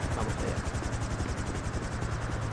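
A helicopter in the video game GTA gives a steady, close rotor whir with a rapid rhythmic chop and constant engine noise throughout, loud and unbroken, with no talking.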